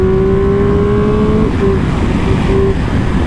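A high-revving Triumph Speed Triple 1200 RR motorcycle engine on the Ascari circuit drones steadily and loud, its pitch holding then dipping and surging again as it shifts, with no talk.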